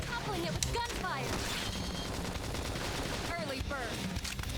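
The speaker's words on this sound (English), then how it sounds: "Try toppling it with gunfire." Gunfire in the video game Xenoblade Chronicles X: rapid, continuous bursts of shooting layered over busy battle effects and a dense game soundtrack, loud and unbroken throughout.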